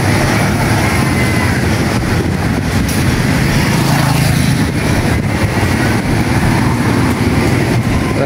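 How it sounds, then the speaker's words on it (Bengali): Heavy traffic on a Cambodian city street near the riverside and Royal Palace makes a dense, steady roar, loud and close, with no voices. "রাস্তায় গাড়ি অনেক বেশি।"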